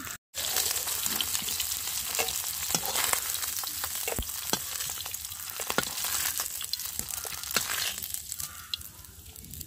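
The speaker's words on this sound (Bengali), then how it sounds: "মাছগুলো নেড়েচেড়ে আমি খুব ভালো করে ভেজে নিয়েছি তো এখন আমি মাছ ভাজাগুলো তুলে নিচ্ছি" Khholse fish frying in oil, a steady close sizzle with scattered clicks and scrapes as the pieces are stirred and lifted out of the pan, no talking.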